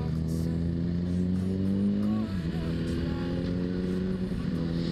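A group of middleweight four-cylinder motorcycles runs nearby on a mountain road toward Lake Yamanaka, with a steady, rising engine drone that shifts pitch partway through and carries on continuously.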